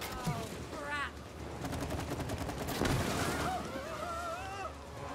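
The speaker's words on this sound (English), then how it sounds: "I'm just gonna aim and shoot" Rapid, dense bursts of automatic gunfire from the video game It Takes Two rattle steadily for several seconds, mixed with whooping, sweeping game tones and a brief voice layered over the shooting.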